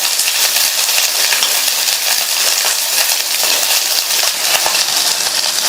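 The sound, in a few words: sautéing small onions with whole spices in oil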